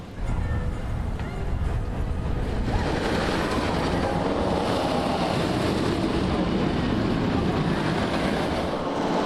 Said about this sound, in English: checking out the all-new Fire Runner single rail roller coaster